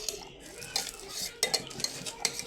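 Food is stirred in a pot with a utensil, scraping and clinking against the metal in irregular bursts, close and fairly quiet, with no talking.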